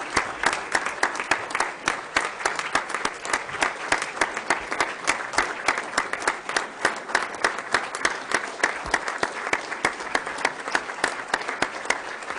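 A standing audience at a civic midterm address gives school committee members a long, sustained round of applause, loud, crisp clapping with no letup for over twelve seconds.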